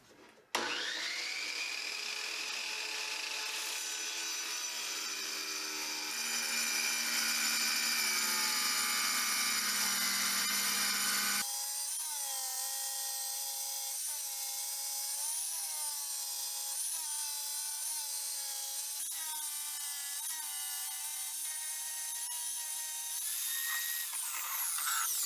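An MK compact tabletop wet tile saw cuts freehand through a hard porcelain plank, with a loud, steady motor whine and a grinding blade tone. The pitch shifts midway as the blade bites into the tile, and the cut runs close and continuous to the end.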